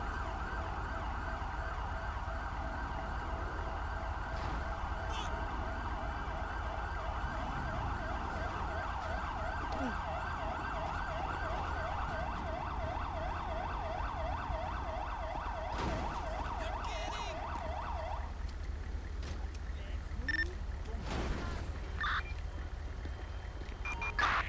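An ambulance siren in the GTA V LSPDFR police mod wails in a steady, continuous cycle for most of the stretch, then cuts off and leaves low road rumble and scattered clicks.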